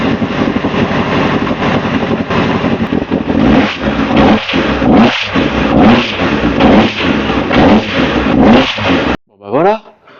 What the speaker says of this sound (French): ça tourne sur 4 cylindres.